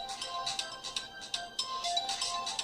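A mobile phone ringtone plays a faint, repeating melodic pattern of bright tones over a steady background hiss.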